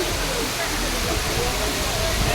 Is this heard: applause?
no